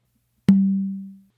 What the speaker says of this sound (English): you're going to do an open on the tumba